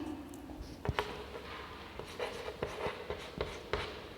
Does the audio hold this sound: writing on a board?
yes